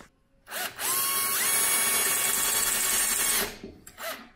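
Power drill boring out rivets on a Crypton Motorscope 335 engine analyser under restoration: a steady, loud whine of a few seconds with a pitch shift partway, then brief short bursts as the trigger is released.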